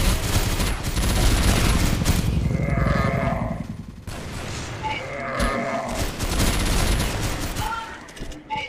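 Sustained rapid gunfire from a six-barrel VIP Momo gun in a video game, a loud dense rattle running almost the whole time with brief pauses, over bleating-like game sounds and under occasional voices.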